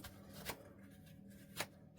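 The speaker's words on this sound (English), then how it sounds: "And you saw me shuffling, guys?" Tarot cards being shuffled by hand, with several crisp riffling bursts at intervals, close and fairly quiet, ending in a sharper slap.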